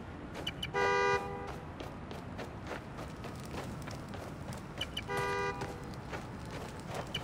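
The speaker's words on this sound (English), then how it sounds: "The more annoying the horn gets, the closer I am." Two loud car horn blasts in the video game Marvel's Spider-Man: Miles Morales, each about half a second long, sounding a few seconds apart over a continuous background hum.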